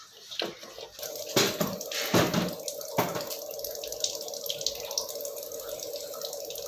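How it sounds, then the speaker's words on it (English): Water runs and splashes steadily from the post carbon filter outlet of a Livpure Envy alkaline RO water purifier during servicing, with the output pipe removed. The flow is close and continuous, with a few louder gushes early on. "Remove the post carbon output pipe and flush the post carbon for 5 minutes"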